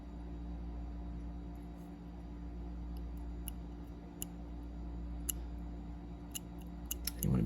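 Scissors snipping a small part off the tail of a miniature model figure: a few quiet, sharp clicks spaced irregularly, then a cluster near the end, over a steady low hum.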